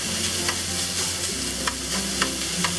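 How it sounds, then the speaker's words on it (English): Tofu crumble sizzles steadily while being stir-fried in a pan for a tofu, okra and mushroom stir fry, with a constant frying hiss and a few soft spatula scrapes and taps. "we'll add the tofu. And we'll cook the tofu crumble until it browns up a bit"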